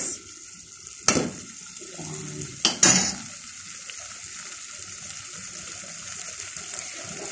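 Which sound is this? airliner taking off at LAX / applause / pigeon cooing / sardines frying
sardines frying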